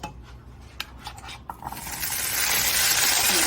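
Chickpeas pan-searing in a hot pan, with a few sharp pops and ticks in the first moments before a rising, steady hiss of frying takes over, close and fairly loud, with no talking.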